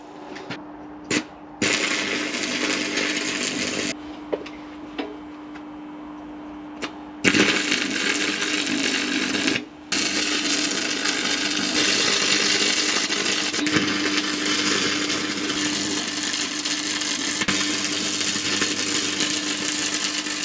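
Welding onto the cheese head of a seized screw in a Victorian radial drilling machine: a loud, close, sustained crackling hiss that stops and restarts in several bursts, with short silent breaks.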